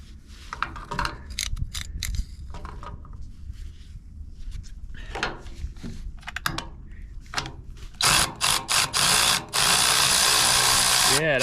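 Phillips head screws being unscrewed on a Genie Z60/34 articulated boom lift, with clicking ratchet-like and mechanical tool sounds, short bursts of loud power-driver whine near the end, and talking at times.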